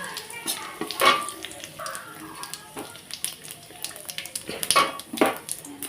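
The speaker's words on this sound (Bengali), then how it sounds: "তো তেলটা দেখো গরম হয়ে এসছে দিয়ে দিচ্ছি গোটা তেজপাতা গোটা জিরে" Whole bay leaves and cumin seeds dropped into hot oil crackle and sizzle up close, with scattered pops and a few clattering stirs over a steady frying hiss.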